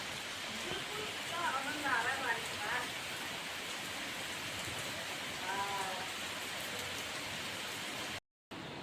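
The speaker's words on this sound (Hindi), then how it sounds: "बहुत तेज हो रही है बारिश" Heavy rain pours steadily in a dense, hissing wash with no breaks, while a voice briefly speaks over it.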